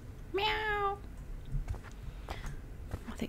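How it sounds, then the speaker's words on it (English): A single clear cat meow sounds in the Japanese horror video game The Kidnap, one drawn-out, tonal call near the start, then quiet background with faint clicks. "Oh, look at the poor cat is eating the beans."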